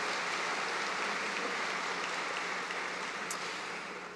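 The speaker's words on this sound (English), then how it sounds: "Another big round of applause" Steady applause from a graduation convocation audience after a university jazz band's performance, a dense even wash of clapping that holds for several seconds before tapering slightly at the end, without talk over it.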